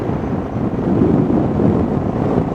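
Steady, blustery wind rumbles across the microphone at a beach, a low, broad roar that stays loud throughout with no voices.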